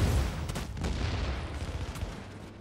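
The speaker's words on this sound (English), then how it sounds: "Nice sticky bomb, by the way." A sticky bomb detonates in The Division, a deep boom at the start followed by rumbling aftershock and a few sharp cracks of gunfire as the blast fades.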